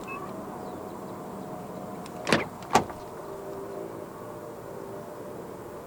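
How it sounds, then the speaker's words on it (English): A 2021 Mazda CX-8 2.2 SkyActiv-D unlocks after the keyless-entry button on the front door handle is pressed. Two quick, sharp mechanical clunks from the lock actuators sound close together against quiet outdoor background noise. "And to unlock the car, just press the black button on any of the front door handles again."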